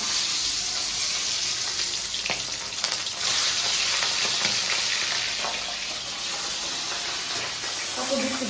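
Hot oil hissing loudly in a kadai, a continuous close sizzle with a steady high whine running throughout and no clear talk over it.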